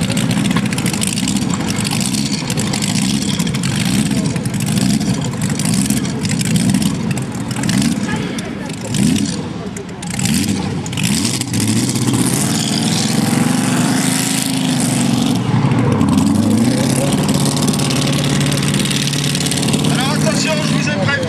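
A loud tractor-pulling engine roars and revs continuously, with rising and falling pitch swells, while a voice talks over it at times.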